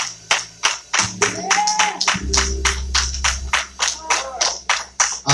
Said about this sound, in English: Give her another hand clap of praise this morning.